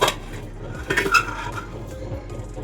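Drumstick pickle being shifted from one bowl into a larger one, with close metallic clanks and scrapes of a spoon against steel vessels, a few louder knocks among quieter handling sounds.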